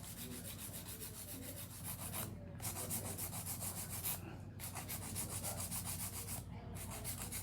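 A steady, close abrasive grinding of an electric nail drill filing acrylic nails, running continuously with brief pauses.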